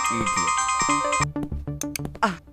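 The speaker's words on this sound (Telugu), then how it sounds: "మిస్డ్ కాల్ ఇచ్చా కదా కాల్ వస్తుందిలే" An incoming call sets off a mobile phone ringtone, a loud tonal melody that plays for about a second before it cuts off, followed by short tuneful bursts and a brief voice.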